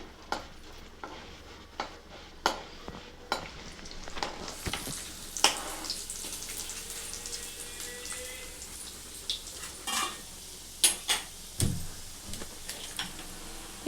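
Rice flour roasts in a pan, with a faint, low sizzle under repeated sharp scrapes and taps of a spoon stirring against the metal.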